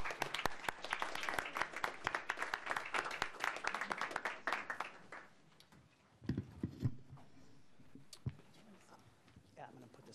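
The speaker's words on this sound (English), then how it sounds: "Why don't we give our panelists a round of applause?" Audience applause for panelists at a public policy forum on immigration enforcement, dense clapping for about five seconds that thins into scattered claps and fades, with a few brief voices and room noise after.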